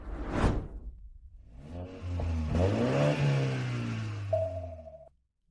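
A car engine revs and accelerates in pursuit of a scooter, a quick whoosh followed by a rising, throaty engine roar with whirring overtones that cuts off abruptly.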